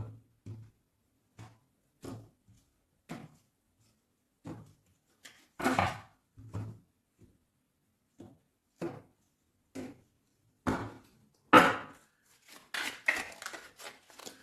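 A Witch Tarot card deck being cut and shuffled, giving a string of short, soft papery taps and slaps spread across the stretch, with a denser flurry of riffling card sounds toward the end.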